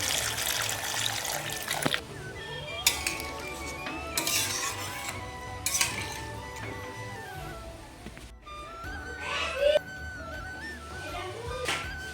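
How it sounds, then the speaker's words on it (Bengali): Water is poured over broad bean seeds in a cooking pot, a running splash with clinks of metal cookware and stirring nearby, continuing at moderate loudness without talk. "এখন এই সিমের বিচির মধ্যে আমি জল দিয়ে দেবো"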